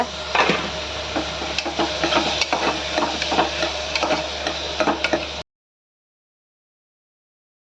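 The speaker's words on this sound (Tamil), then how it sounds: "தக்காளி போட்டு அதே நல்லா கிண்டி விட்டுக்கோங்க." Tomatoes being stirred in a cooking pan: a close, steady run of wooden scraping and soft frying crackle for about five seconds, then abrupt silence.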